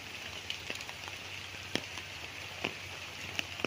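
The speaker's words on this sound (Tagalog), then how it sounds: "malakas po ang ulan pero hindi po ito binabaha" Heavy rain pours steadily over farm land planted with lansones and mangosteen trees, a dense continuous hiss broken by a few sharp, close drips and taps.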